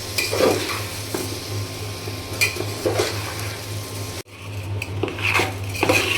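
Polao rice fries in ghee in a pot, a continuous sizzle under repeated scraping and clinking of a metal spoon against the pan, close and fairly loud, with a brief drop to near silence partway through.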